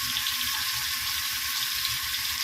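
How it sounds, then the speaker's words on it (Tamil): Seer fish frying in a pan with a steady, close, even sizzle that runs unbroken the whole time, with no talk over it. "வஞ்சர மீன் வறுவல்."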